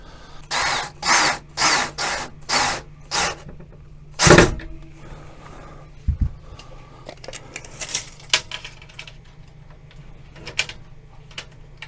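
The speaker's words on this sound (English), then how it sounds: "drill some pilot holes." A power drill whirs in six short bursts while drilling pilot holes, one after another, followed by a louder final burst and then scattered clicks and handling noises.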